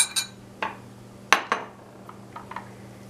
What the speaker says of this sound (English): Just going to give it a stir.